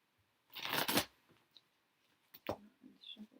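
Tarot cards being shuffled during a live reading, a loud riffling burst followed by a few softer card flicks and taps, close and otherwise quiet.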